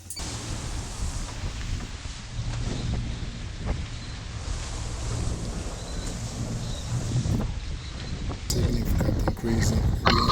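Strong wind roars at sea aboard a small sailboat, a steady, loud broadband rush with low rumble and buffeting that swells harder near the end, with no speech.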